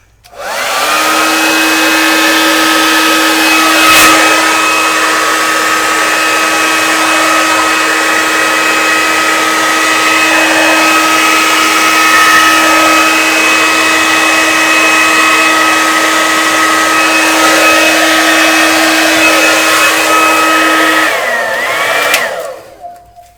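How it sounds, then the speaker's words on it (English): A handleless hair dryer blows over wet poured paint coated with polymer gloss medium, a loud, steady, close whooshing drone with a constant motor hum that runs without a break for over twenty seconds before switching off. "This is the hairdryer in my Amazon shop. No handle."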